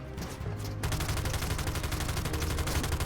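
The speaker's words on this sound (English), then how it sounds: "another shotgun shot went right by my head" Rapid bursts of shotgun fire in a Fortnite match, sharp repeated blasts rattling close by in quick succession after a brief quieter start.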